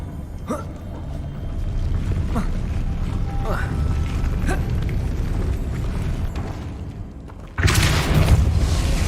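A Depulso spell cast in Hogwarts Legacy: a steady rumbling magical bed with scattered sharp cracks, ending in a sudden loud burst of force near the end.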